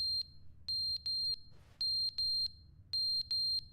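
A smoke alarm in a video game gives loud, piercing high beeps in quick pairs and triplets separated by short pauses, with no voices.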